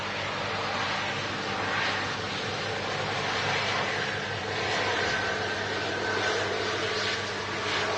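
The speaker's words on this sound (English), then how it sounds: "That was a fantastic landing." An airplane landing on runway 23 right, heard as a steady, broad roar of engine and rushing air that holds at an even level throughout without pause.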